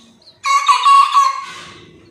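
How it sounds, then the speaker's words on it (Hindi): A cockerel gives one loud, close crow lasting about a second, which trails off into quiet, with nothing else heard around it. "सुबह 6 बजे से 20-20 बार बांग देंगे, तब तक आप उठ ना जाओ। तो आवाज़ सुनिए"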